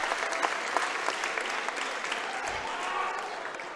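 Crowd applause in a high school boys basketball gym as a player comes off the floor, a sustained round of clapping with occasional sharper claps and light speech underneath.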